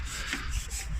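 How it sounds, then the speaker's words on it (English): A brief, close rasping rub of sandpaper on a Corsa B car body panel, two quick strokes with no talk. "So I'll just give that a quick sand down, got rid of all the rough edges"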